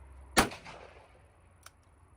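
A single sharp gunshot crack from a .22 Ruger Single Six revolver with a short ringing decay, followed by a faint click a second later, with no voices.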